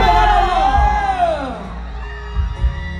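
A crowd at an annual temple merit-making festival concert in Thailand screams and cheers loudly and continuously, with overlapping shouts and whoops close by.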